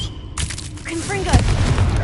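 The Confringo explosive spell going off in Hogwarts Legacy, a sharp blast followed by crackling, whooshing magic effects in a short, loud burst with a voice in the mix.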